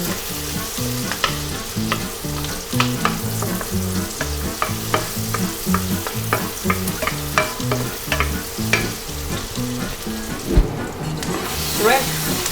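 Onion frying in butter, a steady crackling sizzle with repeated stirring clicks and scrapes throughout, close and moderately loud, with a brief louder knock near the end.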